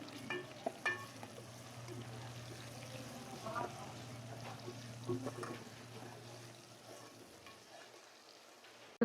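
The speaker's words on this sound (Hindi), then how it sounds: "1 टेबल स्पून मैंने लहसुन अदरक का पेस्ट लिया है। अब इसको डाल के मैं फ्राई कर लूँगी इसको थोड़ी देर" Garlic-ginger paste frying in a pan for raw mango curry, a steady low sizzle with frequent stirring scrapes and clinks throughout, close and moderately loud.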